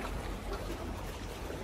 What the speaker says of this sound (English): You can hear it, but you can also see the water lapping in between the stones.